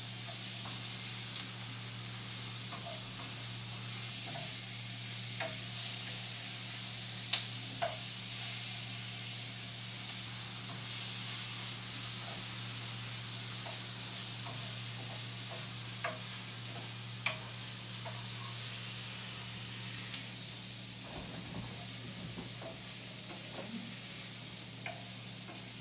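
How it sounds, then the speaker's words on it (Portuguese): Onions for a bacon and gouda risotto sizzling in a pan, a soft continuous frying hiss broken by scattered clicks and scrapes of stirring, heard close up. "aqui a cebola, se chegarem um pouquinho mais perto, vocês vão reparar que a cebola tá ficando já translúcida"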